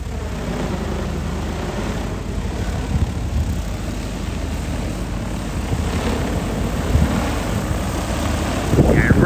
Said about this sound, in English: bring the drone back and we'll land him